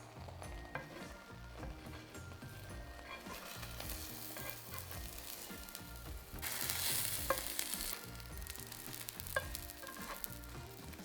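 An omelette fries in a tilted pan, giving a steady close sizzle throughout with light scraping and stirring, and a louder hiss swelling briefly near the middle.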